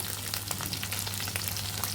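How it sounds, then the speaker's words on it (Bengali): Corn kernels fry lightly in a pan with leaves, giving a soft, continuous close sizzle with small crackles throughout, fairly quiet and steady. "ভুট্টাগুলো একটু ভেজে নেব"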